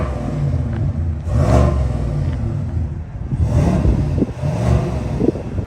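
A Chevrolet Tahoe SUV exhaust rumbles loudly and revs up twice in surging bursts, deep and throaty, with no voices over it.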